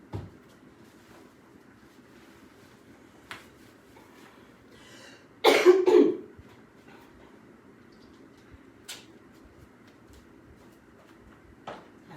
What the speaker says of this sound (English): Clear my throat a little bit